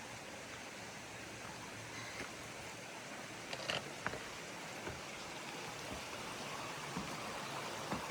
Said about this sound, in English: This is the Brown Mountain Creek.